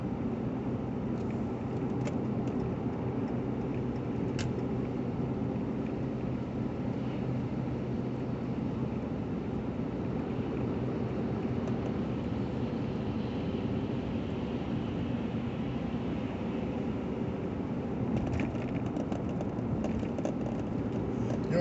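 A car drives through a winter storm on Bozeman Pass, heard from inside as a steady, even road-and-engine rumble that holds level for the whole stretch with no voices.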